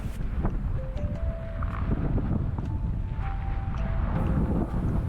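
Steady wind buffeting the microphone on a hilltop, a constant loud rush with faint patter that could be rain, no voices.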